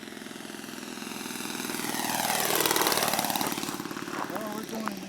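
A model airplane engine, a Zero replica on its first flight, drones steadily, its pitch sweeping up and down as it passes, with people talking over it.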